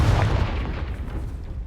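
Confringo, the explosive fire spell in the Hogwarts Legacy game, goes off with a heavy low boom and a rumbling blast that fills the whole moment and decays slowly, loud and dense with no talk.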